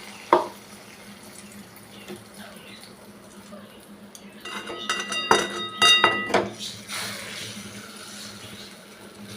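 Beaten egg poured into a pan with bread for a bread omelette, a soft liquid pour and faint sizzle with a sharp clink at the start and clattering utensil knocks midway.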